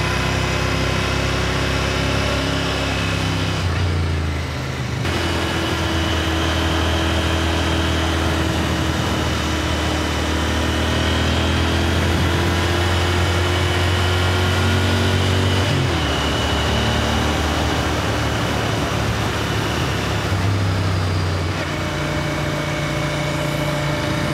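Royal Enfield Interceptor 650 with its 650cc air-cooled twin engine, recorded while riding: a steady, loud engine drone with wind rush that shifts pitch a few times through gear changes, with no voices.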